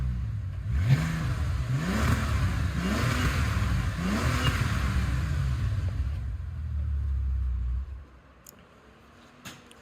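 A 6-litre twin-turbo W12 in a 2010 Bentley Continental GT Speed revs hard in several rising, deep roaring bursts, loud and close, then settles to a steady rumble before dropping away near the end.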